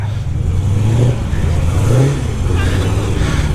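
A car pulls away at a car meet, its engine rumbling steadily and rising in pitch as it drives off. The sound is medium loud and continuous, with crowd noise in the background and no clear talk.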